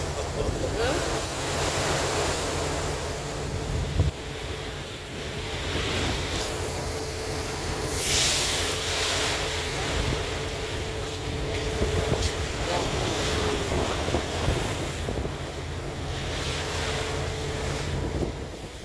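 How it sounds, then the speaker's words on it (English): Waves splash steadily along a windy seaside on Gozo island, under a constant roar of wind buffeting the microphone and a continuous wash of surf. "lovely sea, windy by the way, and a lot of splashes on the sea"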